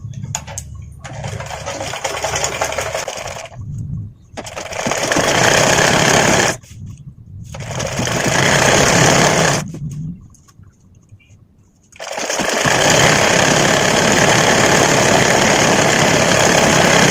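Sewing machine stitching a petticoat: a fast, steady mechanical whirring run in several bursts of a few seconds each, separated by short pauses, close and loud.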